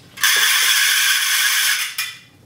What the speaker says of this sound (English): The crackler delivers a noise that is annoying to everyone around you